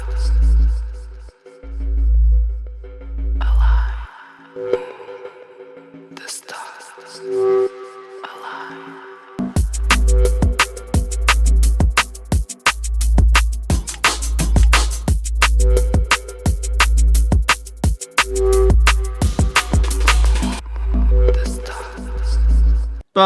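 Drum and bass intro built from a single minimalist bass sound: sparse, filtered hits and swells open it, then a dense, driving section of rapid drums and heavy bass kicks in.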